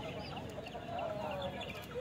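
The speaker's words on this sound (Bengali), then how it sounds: "এটা একটা ফাইটার প্রজাতির মুরগি" A fighter-breed chicken clucks faintly in a busy bird and pigeon market at Tongi bazar, with brief tonal calls rising over steady crowd noise and murmuring voices in the background.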